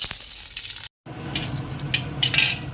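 Dry red chillies frying in oil in a kadai, a bright crackling sizzle with stirring scrapes, a brief cut partway through, then livelier spitting bursts.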